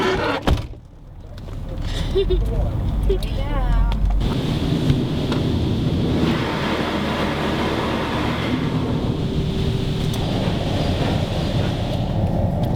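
An automatic car wash runs on a Super Dry Wash cycle, a continuous mechanical whir and hiss of spraying water heard from inside the car after a brief startup clunk.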